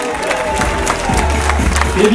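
A crowd claps and cheers for cyclist Kevin Vauquelin at a junior cycling championship medal ceremony in France, the applause steady and mid-distance over a low rumble and loudspeaker tones.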